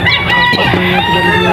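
A chicken or rooster calls loudly and close in one drawn-out, crowing-like cackle that fills the brief moment.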